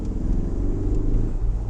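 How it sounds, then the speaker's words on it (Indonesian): Engine of a Land Rover Defender 90 P300 accelerating during a fairly fast turn, a deep, steady rumble with a firm low growl heard close from inside the cabin. "Tadi kalian denger dikit kan suara mesinnya mantep kan"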